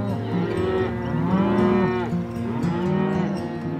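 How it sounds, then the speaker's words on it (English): Cattle moo on a ranch grazing property, several long, deep, overlapping bellows rising and falling close by, continuous with no talking. "They bring their cattle in for a couple months a year, graze the property."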